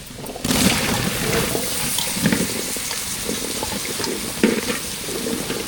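Masala fries in oil in a pan as raw plantain is added and stirred, a loud continuous sizzle with crackling bursts and scraping stir noises throughout.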